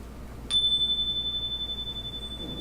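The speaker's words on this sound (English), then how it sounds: "we listen to that chime again and wait for the moment of silence thereafter" A meditation chime is struck once and rings on with a pure, bright tone. It decays slowly with a gentle shimmer, held clearly over soft background noise.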